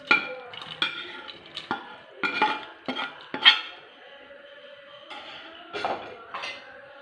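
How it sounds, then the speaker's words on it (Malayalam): Sautéed tomato, onion and okra are added to a pot of sambar with a metal spoon, producing scattered sharp clinks, scrapes and taps against the vessel, close and fairly crisp, with brief quiet gaps. "ഇനി നമുക്ക് ഇതിനകത്തേക്ക് നമ്മൾ വഴറ്റി വെച്ച തക്കാളി സവോള വെണ്ടയ്ക്കായും കൂടെ ഇതിനകത്തേക്ക് ചേർത്ത് കൊടുക്കാം"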